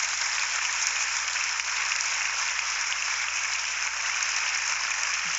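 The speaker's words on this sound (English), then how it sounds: "Can I have an applause for being about that green life, yo?" Studio audience applause on a late-night-style comedy show, a steady, even wash of clapping held at a constant level from start to finish, with no talk over it.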